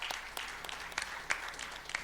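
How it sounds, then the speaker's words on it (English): Scattered applause from an audience at a panel discussion in Mumbai, fairly faint and distant, with irregular claps continuing steadily throughout. "We can all clap."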